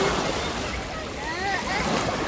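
Sea waves wash onto a beach where a child plays with a scoop and bucket, a steady broad rush of surf with some wind noise and faint voices nearby.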